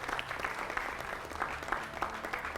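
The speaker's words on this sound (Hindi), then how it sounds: "जोरदार तालियों से इनका भी स्वागत।" Loud, steady applause fills the studio of a Hindi-language TV news debate as a defence-expert guest is welcomed, dense clapping continuing without a break.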